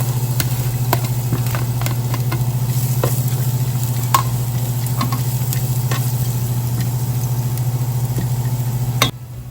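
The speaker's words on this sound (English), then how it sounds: "Saute onions." Onions sautéing in a pan for a rice and lentil dish: a steady, close sizzle with a constant low hum underneath and a few light clicks from stirring, with no voices.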